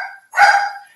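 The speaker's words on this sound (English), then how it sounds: "That's my bark my dog does when the neighbors come home across the hall" A single pet dog's bark, the kind it gives when neighbours arrive home across the hall, heard as one short, loud, close yap.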